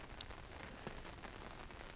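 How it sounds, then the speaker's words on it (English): Quiet rain falls outdoors with wind during a fishing trip, a soft, continuous patter of drops heard from close by, fairly faint throughout. "it hasn't stopped the wind coming up and it hasn't stopped it raining"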